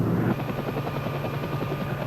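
An Army military helicopter flies in toward a wreck site, its rotor producing a steady, heavy low thudding chop with continuous engine whine, loud and close throughout with no voices.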